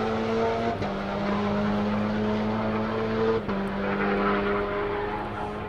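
A race car laps Circuit of the Americas during a super lap session, its engine droning steadily through a triple-apex right-hander with gear changes breaking the tone, fairly loud and alone.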